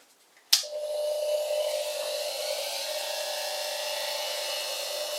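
A bit-changing power tool switches on with a sharp start, then runs at low speed with a steady, quiet whine that continues evenly to the end.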